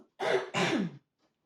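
Two harsh throat-clearing coughs in quick succession, close and fairly loud, followed by silence.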